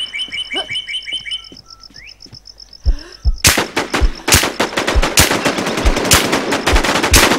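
Rapid automatic gunfire in the PvP shooter game Infestation, loud sharp bursts of shots following synthetic chirping interface tones, fast and continuous toward the end.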